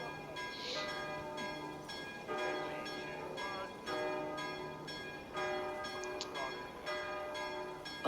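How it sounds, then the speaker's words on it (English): Church bells in the town of Wincestre in the game Assassin's Creed Valhalla ring in repeated, overlapping resonant strikes, moderately faint and continuous, with brief game sounds mixed in. "thank Christ, the bells have stopped"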